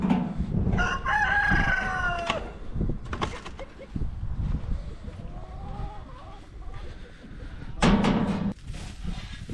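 Young roosters crow in thin, wavering calls several times, with clucking and soft rustling between them in a chicken coop; a nearby voice also speaks briefly.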